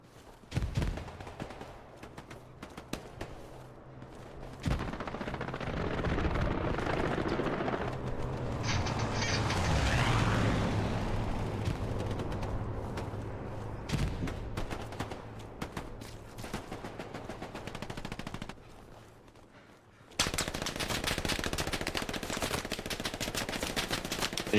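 Video game gunfire: bursts of rapid automatic fire and sharp single shots crackle throughout a strafing run, loud and dense in the middle, with a heavy rumbling swell, then a dense burst of shots near the end.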